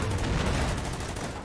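Dense gunfire from an attack in the wartime strategy game Order of Battle: Sandstorm, a loud, continuous burst of overlapping shots and rumbling fire lasting the whole moment with no speech.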